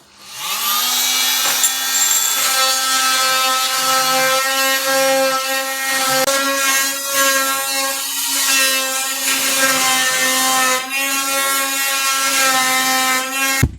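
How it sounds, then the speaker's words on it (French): An oscillating multitool fitted with a multi-material blade cuts into a kitchen worktop, making a loud, steady, high buzzing whine that holds for several seconds with slight shifts in pitch as the blade works through the material. "Multitool et puis lame multimatériaux."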